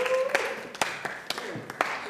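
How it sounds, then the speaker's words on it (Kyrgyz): Audience applause at a women's contest on a television show, scattered claps with sharp transients over a dense wash, moderately loud, with a brief voice or tone underneath. "Ал эми 2 айымга катуураак кол чаап коелучу"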